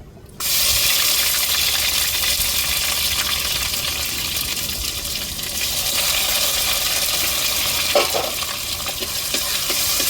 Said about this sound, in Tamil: அதுக்கப்புறம் இஞ்சி பூண்டு வதக்கிக்கிடுவோம்